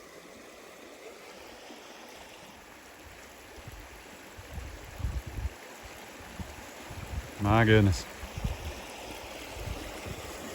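A flooded creek on an Oklahoma farm rushes steadily, with broad water noise running throughout; someone speaks briefly over the flow near the end.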